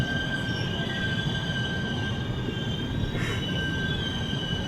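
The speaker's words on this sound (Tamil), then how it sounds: "நாங்கள் தங்கியிருந்த ரயில் இதை விடிய எப்படி இருக்குன்னு பாருங்கள்." Passenger train rolling along with a steady high metallic wheel squeal ringing over a constant rumble of the cars, continuous and fairly loud with no talk.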